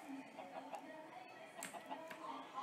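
Minecraft chickens cluck softly and intermittently against a faint background, quiet short clucks scattered over a couple of seconds.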